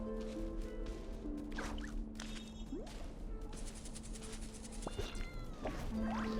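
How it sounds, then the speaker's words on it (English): A cat meows in the video game Genshin Impact, a few short mews set faintly against game music and ambient effects. "I hear a cat."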